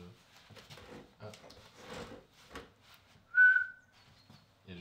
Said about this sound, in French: Il y a juste le sifflement